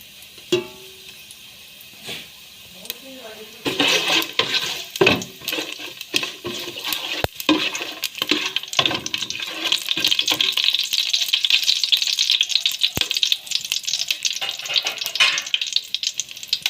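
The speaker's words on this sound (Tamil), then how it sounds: "சட்டி சூடாயிட்டு எண்ணெயும் சேர்த்து கொள்ளுவோம். இப்போ வந்து எல்லா ஸ்பைசஸையும் சேர்ப்போம்." Spices fry in hot oil in a pan while cooking chicken thum biriyani, starting quietly with a few sharp clinks, then a loud, steady sizzle with scraping stirs and utensil knocks running to the end.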